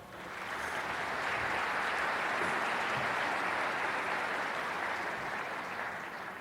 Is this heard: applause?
yes